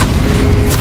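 A Bombarda explosion spell in Hogwarts Legacy lands as one loud, deep booming blast that fills the short moment with a heavy low rumble.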